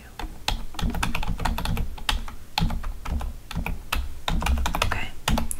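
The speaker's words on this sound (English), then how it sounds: "Sorry, I'm typing. I want to write everything down." Typing on a computer keyboard in a quiet bedroom nurse-checkup scene, with steady, close clicking keystrokes in irregular bursts and brief pauses, with no talking.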